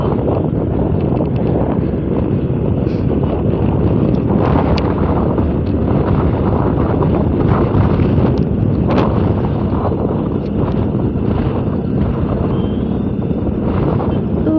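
Strong, constant wind roars over the microphone of a motorbike rider on a cold road outside Delhi. The low rumble and buffeting continue for about fifteen seconds with no talking.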